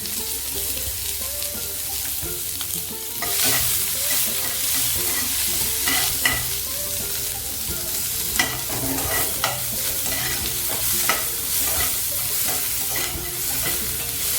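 Onions sautéing in a pan for a snake gourd stir-fry, a bright continuous sizzle that swells as stirring starts, punctuated by repeated scraping and tapping strokes of a spoon, close up with no voices.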